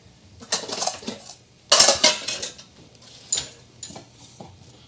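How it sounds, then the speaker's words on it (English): Cookware and a casserole dish being handled in a home kitchen, with a few sharp clinks and clatters of metal and ceramic in separate bursts against quiet background. "I'm gonna get my casserole dish ready."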